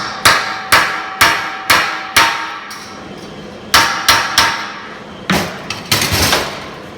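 Hammer taps on a fully welded steel rose at close range, sharp metallic strikes in uneven bursts of single and doubled hits with short ringing decays, no talk.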